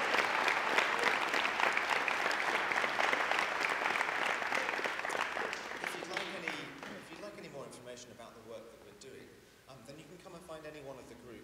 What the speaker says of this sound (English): let's give Mary a round of applause.